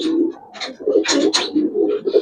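Giribaz pigeons cooing nearby in a steady, throaty run of soft rolling coos that rise and fall with no pauses across the short stretch, with no voices over them.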